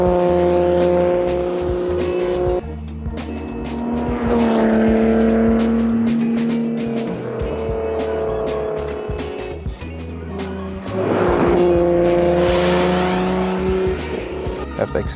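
A Nissan Skyline R34 V-Spec with an RB26 engine revs and drives nearby, with loud rising and falling engine notes, gear changes and possible tire squeal over a continuous exhaust drone, with some voices underneath.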